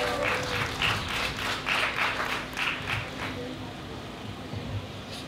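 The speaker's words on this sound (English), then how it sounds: "let's give Liberty a big round of applause" Audience at a Royal Oak Juneteenth event breaks into a round of applause, a few seconds of dense clapping in bursts that thins out and fades toward the end.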